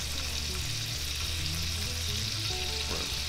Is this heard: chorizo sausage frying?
yes